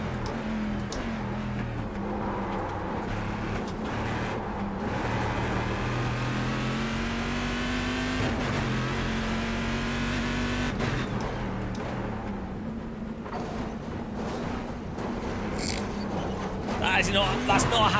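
Fast race cars roar around a track in the iRacing sim, engines droning and revving with rising and falling pitch as gears change, steady and prominent, with a voice talking over the engine noise.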